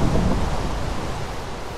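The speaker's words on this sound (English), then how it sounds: "I cannot hear myself over the rain!" Rain and thunder from the skybounds video game: a dense, even wash of rainfall noise over a deep rumbling thunder roll, loud and constant with no voices.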